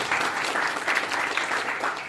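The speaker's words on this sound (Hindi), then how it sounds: "जोरदार तालियां।" Audience at a school painting competition prize distribution gives steady, sustained applause, a dense wash of clapping with no one speaking over it.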